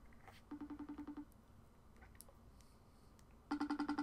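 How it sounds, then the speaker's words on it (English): A phone rings back after dialing, loud and near, with two bursts of rapid, evenly pulsed electronic tones separated by a quiet pause of faint background noise. "I'm calling him right now."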